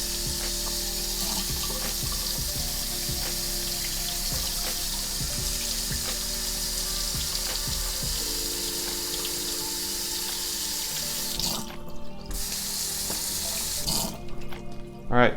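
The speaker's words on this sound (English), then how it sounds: "rinsing the pancake mix off the spatula was highly ineffective with water alone" Tap water runs steadily into a kitchen sink as Krusteaz pancake mix is rinsed off a spatula, a continuous close splashing flow that briefly breaks off and shifts near the end.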